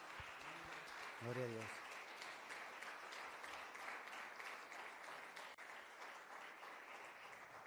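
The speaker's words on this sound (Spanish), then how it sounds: "yo creo que Dios se merece un fuerte aplauso" Congregation applauding in a church, a steady wash of clapping that fills the whole stretch, with a brief spoken exclamation near the start.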